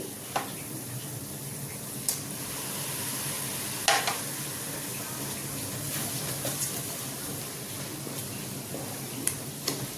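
Tomato puree added to a frying pan while making a fish curry, giving a steady, even sizzle with occasional sharp utensil clicks close by.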